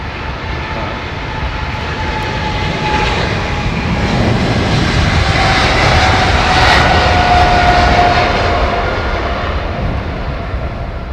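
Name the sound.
Air India jet aircraft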